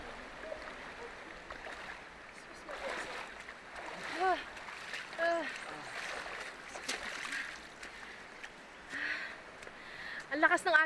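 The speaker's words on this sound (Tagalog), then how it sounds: "Ang lakas ng agos nung ilog eh." The strong current of a dangerous river in Libacao, Aklan, rushes steadily beneath people talking, with occasional splashes from the water.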